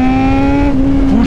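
A car engine held at steady high revs drones loudly and close, a sustained tonal whine that dips slightly as the throttle eases near the end.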